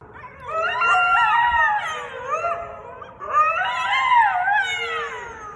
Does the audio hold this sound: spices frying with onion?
no